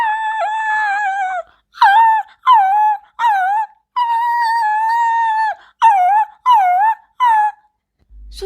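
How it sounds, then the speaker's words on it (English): A small puppy whimpering and crying in a series of high, wavering whines and howls, loud and close, broken by short pauses. "Looks like a small puppy shouting. Looks like he is in danger because he is crying,"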